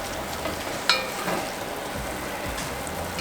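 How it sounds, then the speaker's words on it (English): A clove of garlic browns in a hot pan with a steady soft sizzle and crackle, a brief sharper pop near the start, all at low level with no voices. "Throw a clove of garlic on here. We're just gonna brown it."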